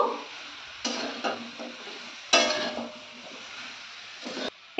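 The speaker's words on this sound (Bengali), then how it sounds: "1 চামচ হলুদ গুঁড়ো দিয়ে দিলাম। একটু নেড়ে নেব।" Mixed vegetables with drumstick pods stirred in a pan with salt and turmeric, a few distinct scraping strokes of a spatula over a faint sizzle, spaced apart with quiet gaps between.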